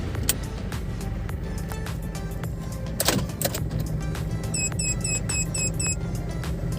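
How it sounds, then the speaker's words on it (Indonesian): A 2002 Isuzu Panther Touring automatic being switched off, a low engine rumble with a few clicks followed by a short series of repeated electronic chime tones. "Ini kita coba matikan mobil."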